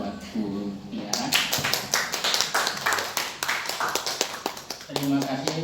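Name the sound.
audience clapping for Bu Tiara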